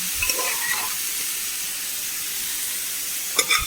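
Cooked chickpeas are tipped into grated coconut frying in a pan, with a steady close sizzle under scraping stirs and a couple of brief utensil clinks at the start and end.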